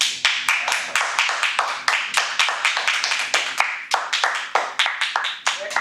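A small Toastmasters meeting audience claps in a close room, a handful of sharp, distinct hand claps repeating in a loose, uneven rhythm for several seconds.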